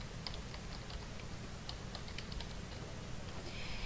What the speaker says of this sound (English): I'm going to type in my username